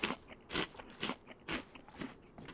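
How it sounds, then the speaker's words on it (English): Crunchy eating sound of baked beans in the video game DayZ, a series of about six sharp, close crunching bites in an uneven rhythm, alone and fairly quiet. "Everything's crunchy in DayZ,"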